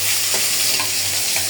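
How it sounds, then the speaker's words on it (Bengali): Fish frying in a pan on a gas stove, giving a steady broadband sizzle with soft crackle, loud and continuous throughout, with faint pops and no voices. "গ্যাস কমে গেলে আবার মাছ ভাজা যায় না, এই জন্য মাছটা আমি সবার আগে বসাই দিলাম।"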